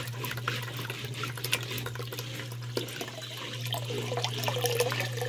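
A homemade water pump pushes water and air bubbles into an aquarium, giving a steady low hum under continuous gurgling, trickling water and bubbling, with no talk.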